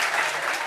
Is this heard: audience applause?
yes